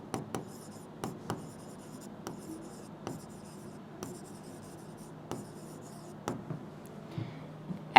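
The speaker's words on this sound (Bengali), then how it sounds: "তো এখান থেকে আমি একটা পয়েন্ট তোকে লিখে দিই" A pen writes a note by hand on paper during a math lesson, giving close, soft scratchy strokes broken by sharp taps and pauses in an otherwise quiet room.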